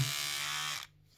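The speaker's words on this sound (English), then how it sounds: "How to replace the battery of this electric toothbrush." A close, loud Braun electric toothbrush running on AA batteries buzzes steadily with a high-pitched whine, then cuts off abruptly.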